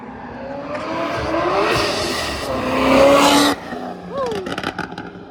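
A Ford Mustang races a 1000hp Corvette, engines revving and rising in pitch as the cars accelerate past, with a voice calling out over the roar before it cuts off into sharper trailing engine whines.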